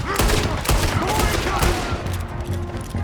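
Gunfire in the video game Red Dead Redemption 2, a rapid fusillade of overlapping shots during a chase, loud and continuous over game sound and voices.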